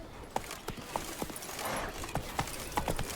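Hooves of Roach, the horse in The Witcher 3: Blood and Wine, clip-clop in a steady walking rhythm, moderately close, with faint background game ambience.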